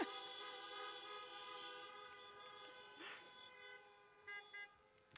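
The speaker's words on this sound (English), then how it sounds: "Honk if you remember squealing." Car horns honk at a drive-in campaign rally in Des Moines, Iowa, a steady layered blare of many distant horns, with a couple of short separate toots near the end.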